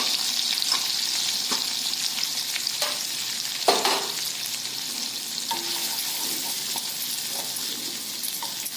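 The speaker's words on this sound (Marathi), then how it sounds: "बटर थोडंसं विरघळल्यानंतर त्यामध्ये आपण आता सुरुवातीला कांदा घालायचा. कांदा छानसं परतून घ्यायचं." Chopped onion sautéing in melted butter in a kadhai, with a loud, continuous sizzle and frying hiss and intermittent scrapes and clinks as it is stirred, close up.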